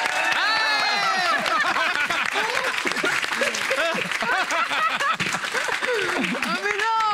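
Studio audience applause on a French talk show, loud and sustained, with cheering and excited voices throughout.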